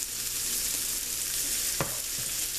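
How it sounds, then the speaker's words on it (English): Mushrooms sizzle in butter in a hot cast iron pan, a loud, dense, steady hiss close up, broken once by a brief scrape of a utensil across the pan. "Now we're going to throw a handful of some mushrooms in there."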